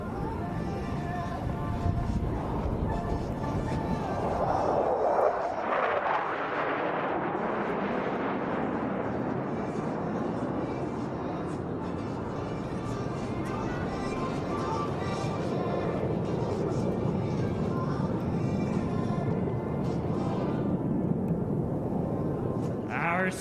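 USAF Thunderbirds jets flying in tight trail formation at an air show, a loud, continuous roar that swells and sweeps past around the middle, then settles into a steady rumble beneath an announcer's voice.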